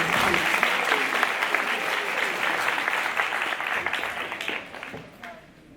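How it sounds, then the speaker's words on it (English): Audience applause fills a school graduation ceremony, a dense, steady wash of clapping from a large crowd that carries on for several seconds before tapering off at the end. "Another round of applause for Brandon."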